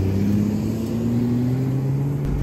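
A 4x4 off-road vehicle pulling away on a hill start, its engine droning steadily with a slowly rising tone as it climbs, close and continuous, no voices.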